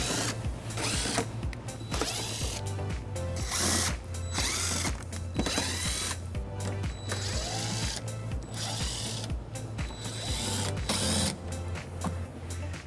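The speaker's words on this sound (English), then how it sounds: "We'll remove those using an 8 millimeter socket." A ratchet with an 8 mm socket removes bumper fascia screws on a 2019 BMW X3, giving rapid, rhythmic pawl clicks in repeated bursts, close and fairly loud, over a low steady hum.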